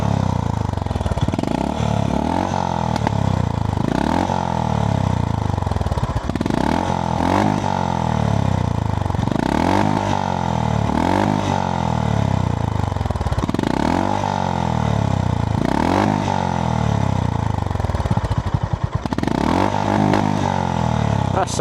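A 2025 Honda GB350S motorcycle exhaust is revved repeatedly in loud, close blips, each rise falling back with crackling pops and burble between the steady, rhythmic throttle pulls.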